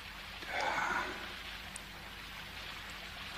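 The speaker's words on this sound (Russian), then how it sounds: "Опять дождь." Rain falls steadily at a country house in a 1988 drama film, a soft continuous patter with a brief breathy vocal sound like a sigh near the start.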